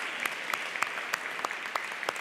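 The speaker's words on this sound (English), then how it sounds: "I think we need to give them a round of applause" An evening event audience applauds its sponsors, a steady clapping from a crowd with individual sharp claps standing out, sustained for the whole moment.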